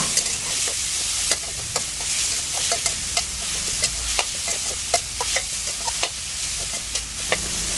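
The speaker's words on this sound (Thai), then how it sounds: "เราก็จะผัดให้หมูสับของเราสุกก่อนค่ะ" Minced pork stir-fries in a hot pan with a constant sizzle, while a utensil scrapes and taps the pan in irregular strokes every half second or so. The sound is close, with no one talking.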